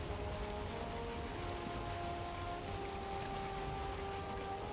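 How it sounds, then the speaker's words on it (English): Rain in the video game Valheim, a steady dense hiss of falling rain under a faint low tonal drone, even in level throughout. "Why is there just rain?"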